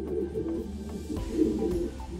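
Pigeons coo softly in a breeding loft, a low murmuring warble that rises and falls over a couple of seconds against a faint room hum.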